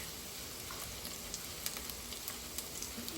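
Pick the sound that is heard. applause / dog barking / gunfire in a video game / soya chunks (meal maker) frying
soya chunks (meal maker) frying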